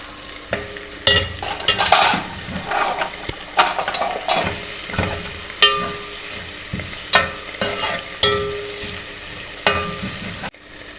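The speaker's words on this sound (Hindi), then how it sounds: "ये मैंने सब्ज़ मिर्चें चॉप की हैं, ये 5 अदद हैं, ये मैं इसमें डाली हैं।" Five chopped green chillies frying in a pan for masala bhindi, with repeated spoon scrapes and clatters over a steady low sizzle, close by, with a sharp knock near the end.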